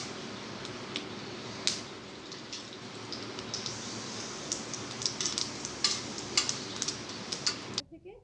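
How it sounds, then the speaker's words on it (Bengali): Whole cumin and whole garam masala fry in hot mustard oil with a dense, steady sizzle. Sharp crackles and pops stand out above it, close up, until the sound suddenly drops away at the very end. "তেলটা গরম হয়ে গেলে দিয়ে দিচ্ছি হাফ চামচ পরিমাণ গোটা জিরে এবং গোটা গরম মশলা"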